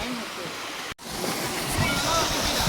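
Kumbakkarai waterfall in Theni rushes in a loud, steady broadband roar, broken only by a momentary cut near the start.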